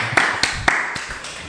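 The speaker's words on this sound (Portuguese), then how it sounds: "Uma salva de palmas. Bate palmas para eles, bate palma aí, galera." Several sharp claps on a podcast set, a few distinct close smacks spaced unevenly over a second and a half with faint room noise behind.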